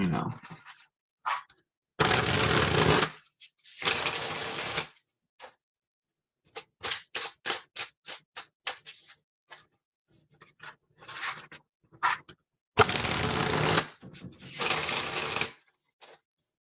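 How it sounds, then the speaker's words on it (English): Tarot cards are shuffled by hand in bursts, with loud riffling sweeps between lighter rapid card taps and flicks, close to the microphone in a quiet room. "mandatory 20 shuffles before I actually pull any cards, Lori."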